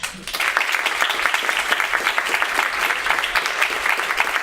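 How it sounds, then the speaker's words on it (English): An audience at a UX writing meetup in Barcelona bursts into dense, sustained applause for a speaker, many hands clapping close together and filling the room at a steady loudness. "please, a round of applause first for Claudia"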